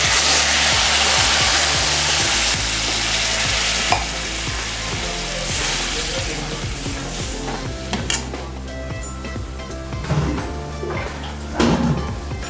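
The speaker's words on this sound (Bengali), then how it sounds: "এবার আমরা জল দিয়ে দেবো।" Water poured into a pan of frying rohu fish curry with potatoes sets off loud hissing and sizzling that gradually settles into a bubbling simmer, with occasional clinks of a spoon stirring.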